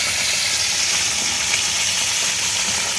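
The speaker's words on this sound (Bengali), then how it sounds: "তো আপনারা দেখতে থাকুন, মাছটা ভাজা হতে থাকুক।" Fish caught in the Sundarbans, likely parshe, fries in hot oil at an outdoor cooking spot, giving a dense, steady sizzle with a bright hiss that stays loud and even throughout, with no talking.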